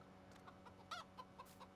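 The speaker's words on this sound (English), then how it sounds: "Oh, chicken." Chickens cluck softly in a farming video game, several short scattered clucks over a quiet steady background hum, with no talking.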